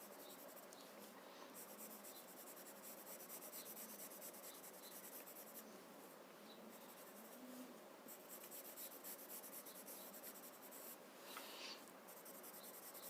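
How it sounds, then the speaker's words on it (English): A chalk pencil scratches and rubs across a drawing tile while a border is drawn, a continuous faint dry scraping with short strokes and pauses, close and quiet. "this is a chalk pencil, so I'm going to add a border"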